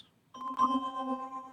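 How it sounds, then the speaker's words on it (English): An ice bells preset from a $30 ethereal winter synth plugin plays a bright, bell-like tone that rings on with sustained shimmering overtones, clear and alone after a brief faint chime. "So, okay, ice bells."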